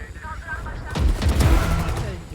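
Gunfire in the shooter game Valorant, a loud close burst of shots over a low rumbling game mix, with a player's voice speaking under the action.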